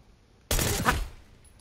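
A single loud burst of gunfire from Call of Duty Black Ops 6, abrupt and close, trailing off quickly into quiet.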